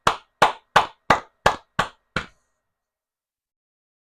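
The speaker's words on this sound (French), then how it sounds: "Applaudissez le Seigneur." A church congregation clapping in unison, seven crisp, evenly spaced claps that stop abruptly, followed by silence and one last clap at the very end.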